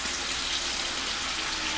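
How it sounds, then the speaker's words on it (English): Tap water pours steadily into a cooking pot being filled for collard greens, a loud, even rush with no break and no voices. "So I'm letting the pot fill here"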